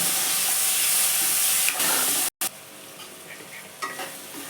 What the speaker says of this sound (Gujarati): હવે થોડીવાર આપણે એને ટમેટાને થોડા કૂક થવા દઈએ